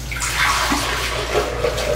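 Nettle tea, nearly three cups, is poured as the base of a warming breakfast elixir, making a steady, close splashing stream of liquid that runs for the whole moment.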